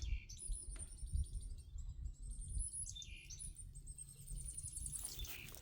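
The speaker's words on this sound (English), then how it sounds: "A little bird in a tree." A small bird in a tree chirps in quick high trills and tweets over low rustling and handling noise outdoors, fairly close and steady.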